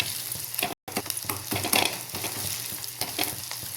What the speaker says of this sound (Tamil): இப்போ வெங்காயம் வதங்கும், நல்லாயிருக்கும்.